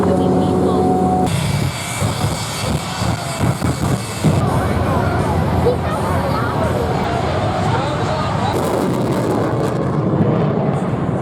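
Airplanes fly over an air show crowd, a steady broad engine roar running throughout beneath busy crowd chatter and nearby talking.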